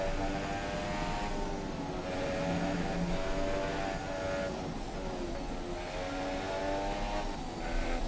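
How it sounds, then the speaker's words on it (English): A classic V10 Formula 1 car in the F1 2017 video game screams steadily at high revs, with engine pitch sweeping up and down through gear changes, loud and continuous with no talking. "Especially those V10 F1 cars, man, they sound so good."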